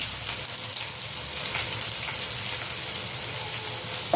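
Onion, green chillies and garlic fry in a pan over lowered gas heat, giving a steady, even sizzle that stays moderately loud for the whole few seconds with no voices.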